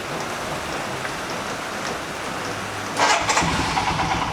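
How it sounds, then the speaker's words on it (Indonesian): After a few seconds of steady hiss, a Royal Enfield motorcycle engine with 9,000 km on it cranks and catches, then runs roughly at close range. "Yuk kita hidupkan mesinnya dulu."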